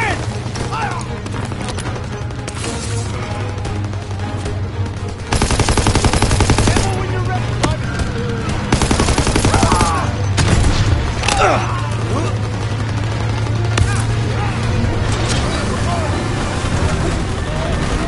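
Sustained war-game gunfire from Call of Duty WW2, with machine-gun bursts and scattered rifle shots at close range over a low rumbling battlefield bed, plus shouted voices; the firing grows louder and denser partway through.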